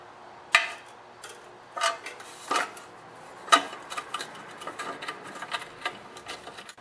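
Metal bolts being threaded and fastened back through a generator's cowling, heard as scattered close clicks and taps with a few sharper knocks, no talking.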